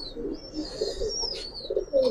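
Giribaz pigeons kept in a loft, gentle low cooing murmurs mixed with faint high chirps and twitters, quiet and close, with a louder burst at the end.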